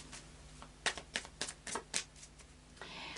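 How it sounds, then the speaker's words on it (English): A deck of tarot cards being shuffled, a quick series of crisp riffling flicks close by, with no talking. "And a final shuffle of the Lightseers Tarot."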